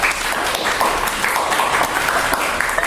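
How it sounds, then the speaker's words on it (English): A live audience at a Disclosure Network New York event gives a round of applause, a steady, loud wash of many hands clapping that lasts a few seconds. "will you please give Vig and Liz a deep appreciation with your wonderful round of applause"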